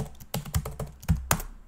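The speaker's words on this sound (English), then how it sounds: "now we can actually run our application by typing Python" Keys clack on a computer keyboard while a command is typed, a quick uneven run of about eight close, crisp taps with no talking.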